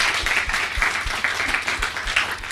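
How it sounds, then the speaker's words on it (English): An audience at a panel discussion on education and labour for young persons with disabilities applauds the panelists, a steady, moderately loud wash of many clapping hands with a few distinct nearby claps. "Can we give a big round of applause to our panelists,"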